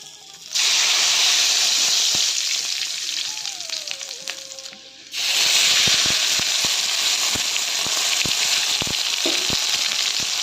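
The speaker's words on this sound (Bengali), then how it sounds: "আমি মাছের মাথাটা এখন ভাজতে শুরু করে দিয়েছি" A fish head fries in hot oil in a pan, a loud continuous sizzle and hiss that dips briefly midway, then surges back with scattered popping crackles.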